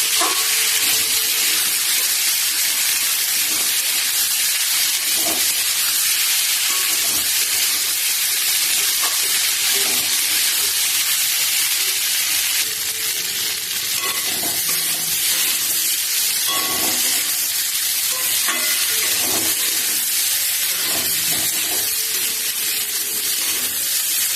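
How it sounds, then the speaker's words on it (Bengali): Pumpkin vegetable curry fries in a pan with a loud, continuous hiss and sizzle, broken by occasional scraping stirs, without any talk. "খুব ভালো করে কষে নিতে হবে, যাতে হচ্ছে যে কাঁচা ভাবটা গন্ধটা চলে যায়।"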